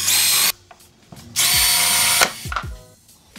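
A power drill bores into plastic 15mm pipe caps in two loud whining bursts, the first short and the second longer, with brief clicks and clatter in the quiet gap between.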